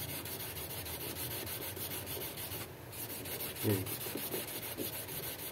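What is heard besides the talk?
sanding a metal pipe smooth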